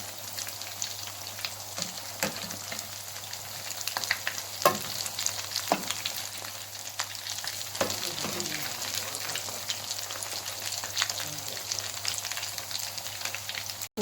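Egg kebabs fry in a pan, giving a continuous soft sizzle and crackle with occasional scrapes and stirring clatter, steady and moderately close throughout.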